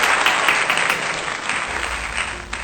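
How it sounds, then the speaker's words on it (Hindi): An audience breaks into loud, sustained applause to welcome a guest on an interview podcast, many hands clapping steadily throughout with no voices over it. "तालियों से उनका स्वागत कीजिए"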